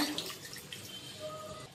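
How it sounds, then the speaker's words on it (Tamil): Tamarind water pours into a dry fish gravy as a steady, close liquid trickle and splash that lasts throughout. "புளி தண்ணி அதையும் வந்து இதோட ஆட் பண்ண போகிறோம்"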